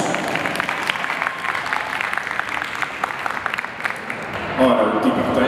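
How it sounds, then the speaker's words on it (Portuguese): Audience applause fills an anime convention panel at IberAnime Porto 2018: a steady, dense crackle of many hands clapping, swelling slightly louder near the end. "Uma salva de palmas!"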